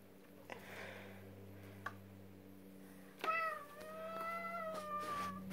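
A talkative house cat at a grandfather's house lets out a few clear, drawn-out meows close by after several seconds of quiet room tone with faint clicks.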